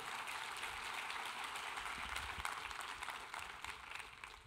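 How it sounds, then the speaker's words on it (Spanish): Church congregation applauding during a Spanish-language worship service, a steady wash of clapping at moderate, somewhat distant level, continuous throughout. "le damos un aplauso a Jesús nuevamente,"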